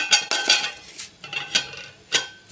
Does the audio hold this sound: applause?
no